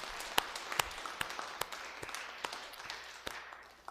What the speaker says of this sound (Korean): 박수로 인사하시겠습니다